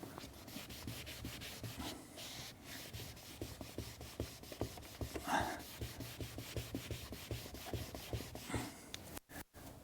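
A clean rag is rubbed hard over the plastic trim of a Mercedes SL convertible in fast, rhythmic back-and-forth strokes, close and scratchy, until it cuts off abruptly near the end.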